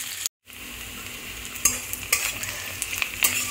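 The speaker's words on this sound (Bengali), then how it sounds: "পেঁয়াজ আর রসুনটাকে একটু ভাজা ভাজা করে নেওয়ার পর" Onion and garlic frying in a pan for a Bengali banana-stem dish, a steady close sizzle with a few sharp scraping stirs of a utensil, a brief dropout near the start, and no voices.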